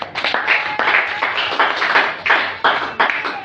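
A church congregation claps together for Jesus during a sermon: dense, rapid hand clapping that swells in repeated waves over a steady crowd bed, close and fairly loud.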